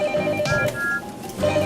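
A telephone rings in a small train station office, a close, loud electronic ringing tone pulsing in short bursts with a busy room behind it.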